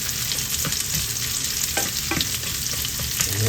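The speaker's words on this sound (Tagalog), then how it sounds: "Igisa na po ko ng bawang at sibuyas." Garlic and onion sautéing in a pan for Filipino mung bean stew, a loud steady sizzle broken by several scraping stirs of a spatula, close up with no talking.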